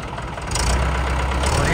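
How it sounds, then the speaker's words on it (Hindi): A Mahindra 575 DI tractor sits parked on a slope, its diesel engine catching and settling into a steady, loud low rumble from close by, without any talking. "और ये देखिए दोस्तों ट्रैक्टर स्टार्ट हो गया है।"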